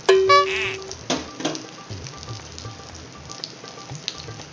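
Fish fries in oil, sizzling and crackling steadily in a pan, with a short tonal beep and a few clinks at the start.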